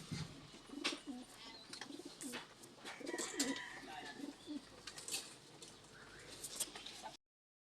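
Pigeons coo repeatedly and close by in a backyard loft while being driven into their cage, with soft wing flutters and faint background voices mixed in.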